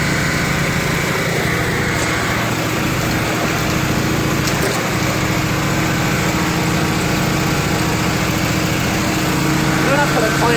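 Yard Machines lawn mower engine running loud and close after a cold start, a steady buzzing drone that holds without a break, with a voice talking over it.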